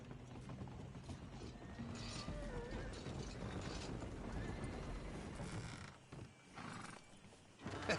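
Horse hooves clop and a horse whinnies in the Red Dead Redemption video game, faint and steady under a dense, busy background bed with no talking.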